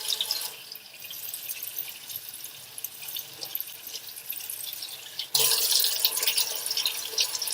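Tap water running into a sink while hands are rinsed, a steady hissing splash that suddenly gets louder and brighter partway through, close and continuous with no talking.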